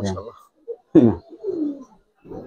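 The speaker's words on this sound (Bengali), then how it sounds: "সর্বশেষ এই কবুতরটা আমার নামাইতে মানে অনেক সময় লাগছে" A Giribaz silver pigeon gives a few low, throaty coos at close range, separated by brief pauses, with a voice heard briefly at the start.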